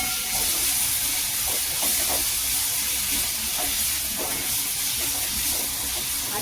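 Coarse masala paste sizzles and fries in a hot pan while being sautéed for a potato dish, a steady, close hiss with occasional soft scraping of the spoon.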